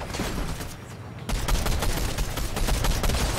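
Rapid gunfire in the video game Fortnite, dense bursts of close, loud shots cracking in quick succession with a brief lull before the firing resumes.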